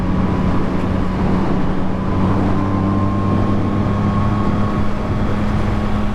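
A motorcycle engine drones steadily in high gear at around 4,000 RPM while climbing uphill, a constant near hum with wind rushing past and no break in the tone.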